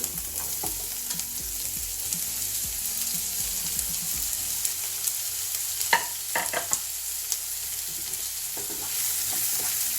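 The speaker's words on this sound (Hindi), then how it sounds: "प्याज हमारा लगभग भुन गया है।" Chopped onions fry in hot oil with bay leaves, cinnamon sticks and green cardamom, giving a steady close sizzle with occasional sharper crackles and spatters.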